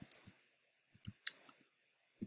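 A computer mouse clicks sharply and close up, a quick cluster of clicks at the start, then a few spaced single clicks, each short and crisp in an otherwise quiet room.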